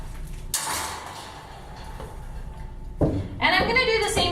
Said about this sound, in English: I open the kennel door and step inside